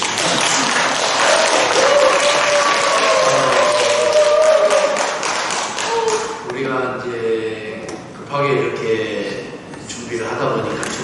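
A church audience applauds at a gospel praise festival, with steady clapping for several seconds that fades as a voice begins speaking over the tail.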